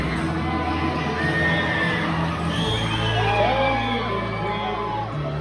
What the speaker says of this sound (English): raise a cheer for the queens of the tournament